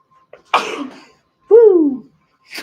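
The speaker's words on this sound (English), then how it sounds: "It makes me sneeze." A single sharp sneeze bursts out close by, followed by a short voiced exclamation and a faint breath.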